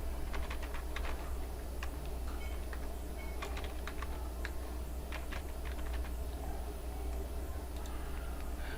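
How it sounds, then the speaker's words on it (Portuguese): Computer keyboard typing at a steady pace, rapid close clicks over a constant low hum of background noise. "Então vou digitar aqui as palavras."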